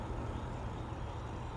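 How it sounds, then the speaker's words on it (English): Distant road traffic in a binaural recording at Edwin Warner Park in Nashville, a faint low continuous rumble and hiss with no distinct vehicles standing out. "you can hear a little traffic in the background"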